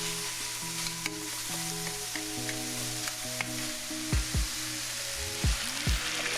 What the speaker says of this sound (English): Then we just gonna mix that around